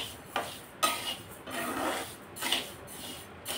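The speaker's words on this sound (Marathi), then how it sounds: "आता ही बाजरी आपल्याला मध्यम आचेवरती चांगली खरपूस खमंग होईपर्यंत भाजून घ्यायची आहे" Pearl millet grains are dry-roasted in a pan over medium heat for yesur masala, with a spatula scraping and tossing them in soft repeated strokes and occasional metallic knocks, close but quiet.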